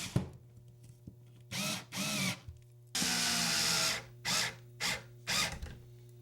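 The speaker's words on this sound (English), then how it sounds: "Place your screws, starting from the center, working your way out, in the middle of the slotted hole" A power drill drives screws into a door sweep being installed on a door, in several short, loud whirring bursts of varying length separated by brief pauses, close by.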